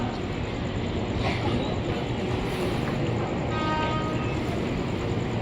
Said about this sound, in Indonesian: KRL Inka berangkat